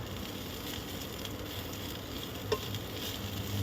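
Dried fish mash, shutki bharta, cooks quietly in a pan with faint, steady frying and stirring noise, one small clink partway through, no talking.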